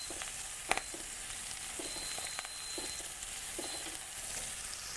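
Onions and garlic sauté in a Cuisinart Cook Central MSC-800 multicooker, giving a steady bright sizzle with occasional stirring scrapes and clinks up close.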